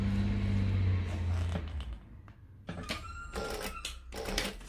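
A sewing machine stitches a decorative box shut on a crossbody bag, running in short bursts of rapid mechanical whirring and clatter separated by pauses, up close and with no talking.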